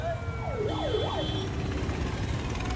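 An ambulance siren wails in a rising and falling pattern a couple of times, fairly distant over steady traffic rumble from a road to Khanauri with police vehicles and buses, then fades out.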